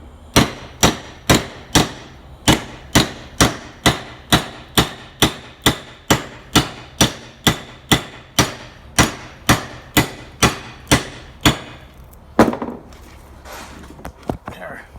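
Steady, rapid hammer blows strike copper scrap over and over in an even rhythm, followed by a brief pause and one heavier strike.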